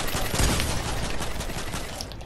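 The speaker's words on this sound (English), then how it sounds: "we're being shot by other people, though." Gunfire from other players in a multiplayer video game, a dense rattling fusillade of rapid shots that fills the whole moment loudly and continuously, with no pauses.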